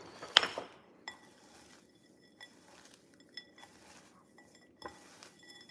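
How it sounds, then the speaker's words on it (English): Utensil clinks and scrapes against a dish while breading is mixed with salt and pepper for zero-carb fried chicken, a loud opening clink followed by scattered quieter taps, close and without talk. "we gotta mix up the breading with the salt and the pepper at the bottom"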